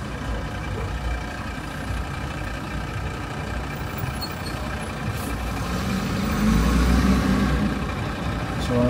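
Heavy road traffic near a bridge, heard from inside a car: a low, steady rumble of idling and slowly moving engines, with the drone swelling louder toward the end.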